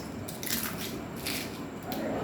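Crisp crunching bites of crispy fried leftover roti chips, three or four bursts spaced about a second apart, close and fairly loud with brief quiet gaps between them.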